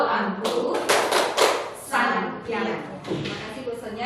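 A class performs a tepuk sancang clapping routine for a teacher, with rhythmic hand claps and thumps mixed with chanting voices throughout.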